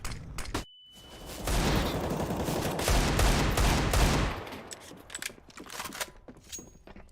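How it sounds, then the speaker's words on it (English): A flashbang grenade detonates in a video game: a sharp pop, then a high steady ringing tone, then several seconds of loud, dense, roaring noise that tapers into scattered clicks and clatter. "Flashbang out."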